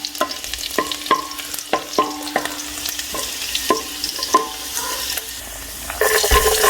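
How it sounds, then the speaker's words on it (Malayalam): Chopped garlic frying in hot vegetable oil for chicken fried rice, a close sizzle broken by rhythmic spatula scrapes and taps against the pan, with the frying swelling louder near the end. "എണ്ണ ഒഴിച്ചതിന് ശേഷം ചൂടായി വരുമ്പം ഒരു 2 ടേബിൾ സ്പൂൺ വെളുത്തുള്ളി ചെറുതായിട്ട് അരിഞ്ഞ് കൊടുക്കാം"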